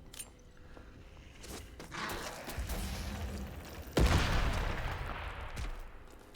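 A grenade explodes in the video game Atomfall, one heavy booming burst midway that rumbles and decays amid scattered thuds and footsteps.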